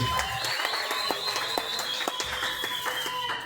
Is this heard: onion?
no